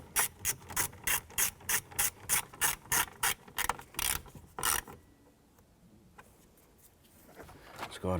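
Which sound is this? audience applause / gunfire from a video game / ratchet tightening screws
ratchet tightening screws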